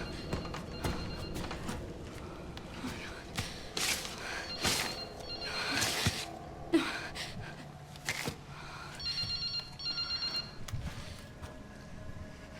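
A telephone rings in bursts of bright, repeating electronic tones inside the Resident Evil Requiem video game, mixed with clattering footsteps and rustling game ambience.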